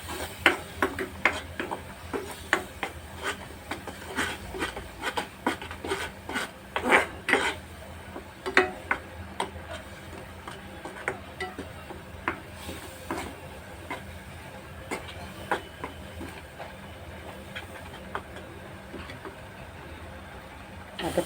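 Mango pulp is stirred in a pan over high flame, making repeated light scraping and clinking of a spoon against the metal in an irregular rhythm, fairly faint throughout.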